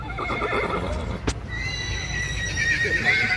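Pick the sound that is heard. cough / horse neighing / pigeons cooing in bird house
horse neighing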